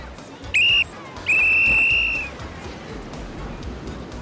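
A person whistles two loud, clear tones, a short blast followed by a longer held note, sounding close over a background of ocean surf.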